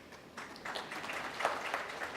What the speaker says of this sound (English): what are you clapping your hands for?